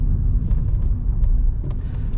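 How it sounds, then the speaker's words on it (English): A 2004 VW Polo 1.9 TDI PD100 car rumbles steadily at close range as it slows during a brake test, a low continuous road and engine drone with a few faint knocks, no voices. "Do a quick brake test briefly."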